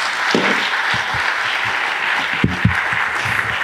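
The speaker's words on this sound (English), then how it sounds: "give all the speakers another round of applause" An audience at a lightning talks event gives dense, steady applause that holds at an even level throughout, with a few louder individual claps standing out.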